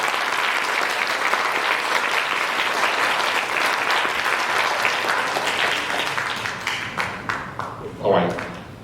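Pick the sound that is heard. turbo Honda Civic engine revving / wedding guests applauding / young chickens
wedding guests applauding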